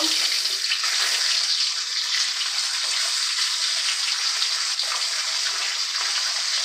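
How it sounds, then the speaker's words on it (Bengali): Bronze featherback fish frying in hot oil, a loud, close, even hiss that holds steady throughout with no pauses and no voices. "বাকি মাছগুলো উপর পেটটা নিচের পিঠটা ভালো করে ভেজে নেব"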